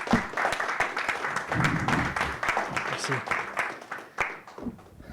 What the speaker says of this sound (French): Daguerre et Mavov, on peut t'applaudir, Daguerre, parce que c'était une très belle